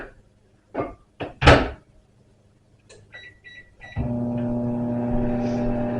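A home kitchen microwave oven handled: a few sharp knocks and clunks of the door, a short series of beeps, then the steady hum of the oven running, all close by.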